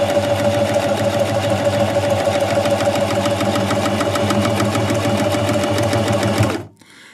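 A Singer sewing machine stitches a buttonhole, running steadily and loudly with a fast, even mechanical chatter for about six and a half seconds before stopping abruptly, leaving near silence.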